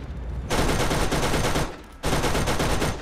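Gunfire in the video game Borderlands comes as two loud, dense sustained automatic bursts close up, separated by a brief lull, with no talk.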